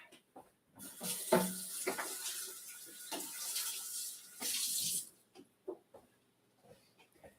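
An onion is rinsed under a running kitchen tap, with water splashing in bursts at close range for a few seconds, broken by brief knocks and handling sounds, then a quiet stretch of small clicks.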